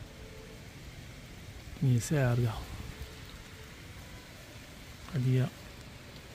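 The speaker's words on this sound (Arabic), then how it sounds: "شو الشتا كتصب" Heavy rain pours steadily outdoors as a broadband hiss under a short burst of speech and a later brief voice, the downpour continuous throughout.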